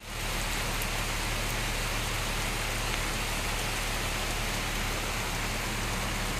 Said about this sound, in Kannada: ಇವಾಗ ನೋಡಿ ಮಳೆ ಬರ್ತಾ ಇದೆ.